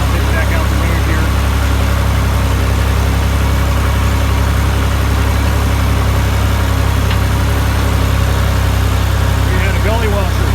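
A diesel tractor drives along a rural road, its heavy engine droning steadily and loudly close by for the whole stretch, with a constant rumble and vibration.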